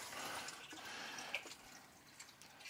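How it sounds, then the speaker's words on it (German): Water splashes and trickles softly through the pumps and filter of a Dupla Marin Makro Resort MR800 marine aquarium as the water level rises, with faint dripping and gurgling at low volume throughout. "Und ihr hört es plätschern."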